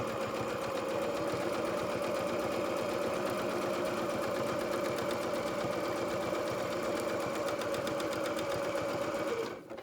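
A sewing machine runs fast and steady on felt flower petals, a close, continuous mechanical whirr with a rapid stitching rhythm that stops abruptly at the end, no voices over it.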